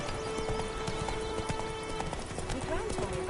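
Horse hooves clip-clop at a steady gallop in a medieval fantasy video game, mixed with game ambience, a brief whinny and someone speaking over the running rhythm.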